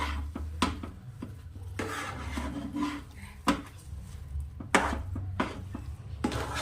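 A spoon scrapes and knocks repeatedly through sweet jaggery lentil filling for puran poli cooking over low heat in a pot, a dense half-kilo batch, giving a steady rhythm of soft thuds and rubbing close by with no talk.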